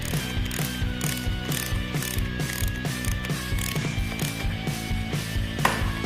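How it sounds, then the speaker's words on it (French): A U-joint nut on the suspension of an old English car is tightened to torque with a ratchet wrench, a close, steady train of rapid clicking strokes with a few metallic knocks. "Il peut ainsi le serrer facilement au bon couple."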